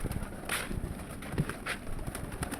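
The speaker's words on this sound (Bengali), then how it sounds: "এই আমার সব কবুতর দেশি কবুতর" Native domestic pigeons coo softly in low, throaty murmurs against a faint breezy outdoor background.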